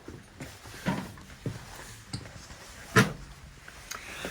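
Metal bulkhead door aboard the WWII submarine USS Cod, giving a few scattered knocks and clanks with one sharp, louder clang near the end, heard close in a quiet interior.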